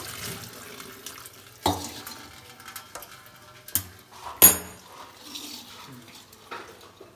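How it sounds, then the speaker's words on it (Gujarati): Homemade paneer, curdled with lemon from milk cream, is rinsed under a running kitchen tap: a steady low trickle of water broken by a few sharp clanks of a pot or utensil. "ચલો આપણે એને ધોઈ કાઢવાનું ને ધોઈ નાખવાનું"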